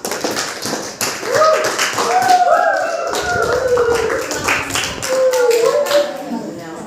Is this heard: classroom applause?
yes